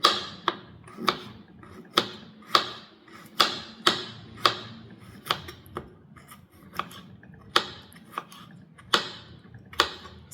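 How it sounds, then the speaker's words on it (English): Knife slicing pieces of coconut for homemade Nigerian coconut candy: a steady series of crisp chopping strikes about every half second, close and clear, with no talking. "the traditional way we do it at home is just to use our knife, put some together like this, and then we begin to cut."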